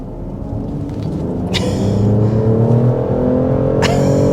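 A 2024 BMW X5 50e plug-in hybrid SUV with an inline-six accelerates hard, its engine note a steady low rumble that climbs in pitch, with brief clicks or shifts along the way and no talking.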